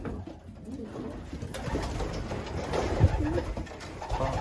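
Pigeons cooing inside a pigeon loft, soft repeated low coos close by over a steady background rustle, with birds shuffling and moving about.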